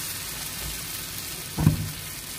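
Batter for kuih bakar is poured into a hot mould and gives a brief, quiet sizzle over a steady soft hiss, with no talking.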